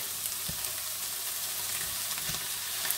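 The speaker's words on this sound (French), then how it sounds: "on ajoute nos deux morceaux de lapin délicatement dans la poêle" Rabbit pieces fry in a pan for rabbit in mustard sauce, a steady hissing sizzle with a few soft pops and stirring taps, no voices.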